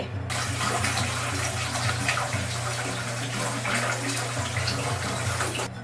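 Cold water pouring steadily into a bowl in a kitchen, a continuous loud gushing rush with a low hum underneath, close and unbroken from start to finish with no talking.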